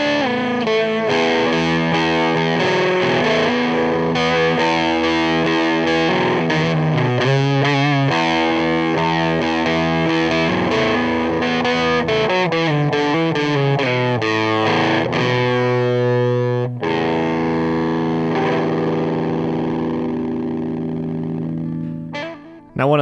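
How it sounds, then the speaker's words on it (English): An electric guitar on its bridge pickup runs through an EarthQuaker Devices Acapulco Gold distortion pedal, playing loud, thick, saturated chords and lead lines without pause before ringing out and fading at the end. "putting that onto the bridge pickup, you can get some really great distorted lead tones"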